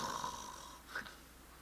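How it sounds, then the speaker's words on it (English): Faint, quiet snoring breaths drift in a home room, a couple of soft raspy pulses heard alone without talk. "enhanced snoring."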